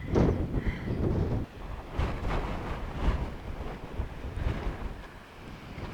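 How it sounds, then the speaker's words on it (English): Strong, blustery wind on a ridge buffets the microphone in rough low rumbling surges, rising and falling in heavy gusts with no voices. "Getting hit with these big gusts isn't fun right now."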